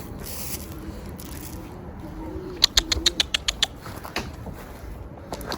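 Tumbler pigeons take off and fly, giving a quick cluster of sharp wing claps and flutters over steady background noise, moderately close, with a few fainter flaps afterward.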